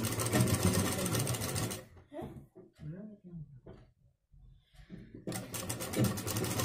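A sewing machine stitches piping on a blouse in close, loud buzzing runs at the start and end, separated by a pause in which someone speaks.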